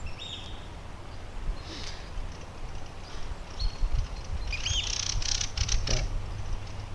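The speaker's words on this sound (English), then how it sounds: "Just a pretty bird." A small bird sings outdoors in short, bright chirps and tweets, scattered across several seconds over a faint, quiet background.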